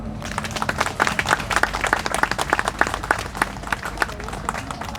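An audience applauds a professor and university president at a Yeungnam University gathering, dense clapping, loud and close, with sharp individual claps standing out through the whole stretch.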